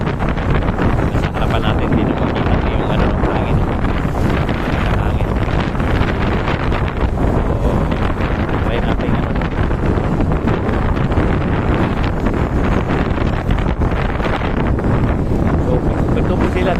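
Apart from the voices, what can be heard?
strong wind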